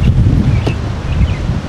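Strong wind at a hillside campsite at Splendor Hills in Tanauan, Batangas, roaring as a steady, loud low rush without a break, with gusts buffeting the microphone.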